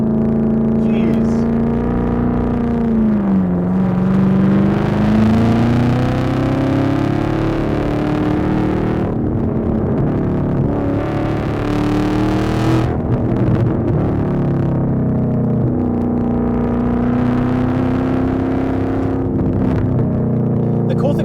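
A Camaro ZL1 1LE with a supercharged LT4 V8 and loud exhaust pulls hard on a canyon road, engine droning and rising through the revs with supercharger whine; the heavy, continuous roar stays close, and a driver talks over it.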